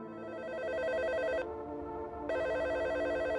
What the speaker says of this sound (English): Finally, the phone rings.